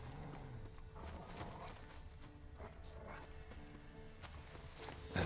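Rhythmic hoof clip-clop of a horse walking in the video game The Witcher 3: Wild Hunt, fairly faint, over a low ambient game soundscape with occasional soft thuds.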